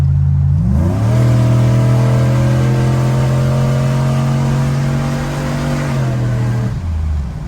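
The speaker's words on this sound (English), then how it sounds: "All right, let's speed up." A cammed, boosted pickup truck accelerates hard, its engine note climbing steadily and loud up close before a gear shift drops the pitch near the end; no talking.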